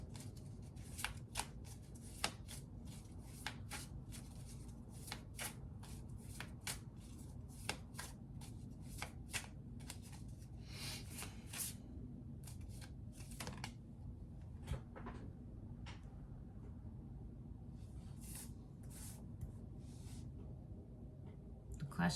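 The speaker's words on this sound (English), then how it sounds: "I don't know if you could see how structured that shuffle was going" A deck of tarot cards is shuffled over and over for about twenty seconds, with crisp rapid riffles and flicks, close and quiet.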